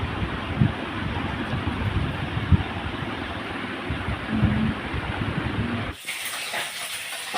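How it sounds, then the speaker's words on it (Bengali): Papad frying in hot oil gives a steady, close sizzle with scattered crackles and pops, which cuts off abruptly near the end. "তিনটে পাপড় ভাজা"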